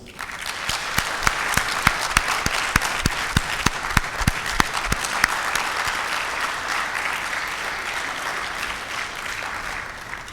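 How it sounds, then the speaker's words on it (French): Sustained audience applause in a hall welcoming a prime minister and head of government, dense clapping with sharp individual claps standing out near the front, slowly thinning toward the end, no talk over it. "applaudissements."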